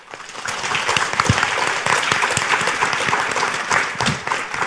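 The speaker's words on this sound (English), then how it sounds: "can I invite you to give a big round of applause to all attendees and speakers" Attendees at an energy and critical infrastructure conference session clap for fellow attendees and speakers, a full-room round of applause that swells quickly and stays strong for a few seconds before trailing off slightly.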